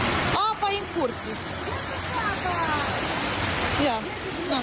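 Floodwater runs through a yard in the village of Pârliță during late-May flooding in Romania. A loud, constant rushing wash of water fills the scene, and someone talks over it.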